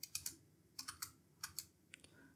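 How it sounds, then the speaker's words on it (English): Keys on a computer keyboard are pressed in a short run of crisp clicks, several quick taps in small bunches, close and fairly quiet with no talking. "I will type control plus F and search for that code."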